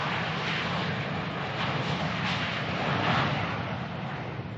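Cargo airplane flying, such as a chartered Antonov freighter: a steady, loud broadband engine roar that swells gently and fades slightly, continuous and alone with no voices.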